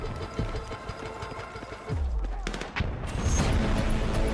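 Full-auto weapon fire in the Battlefield 6 beta, a dense rapid stream of close, loud shots with booming hits and game noise, continuing without a break through the whole stretch.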